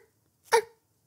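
A person imitates a dog bark with a single short, breathy vocal yelp, close and alone in an otherwise quiet space.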